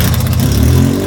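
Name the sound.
car engine running with a broken exhaust pipe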